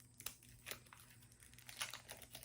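Scissors cut open the plastic seal on an oracle card deck, making faint, close crinkling and snipping with a few sharper clicks and tears in the quiet.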